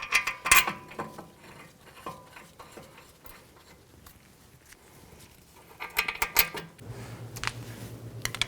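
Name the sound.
bolts being fitted and tightened on a brake caliper bracket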